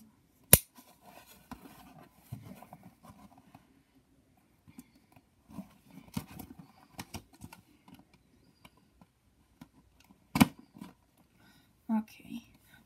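A knife slices through packing tape on a Beyblade box during an unboxing, with sparse scratchy cuts and a few sharp clicks and taps, faint and close, amid quiet handling.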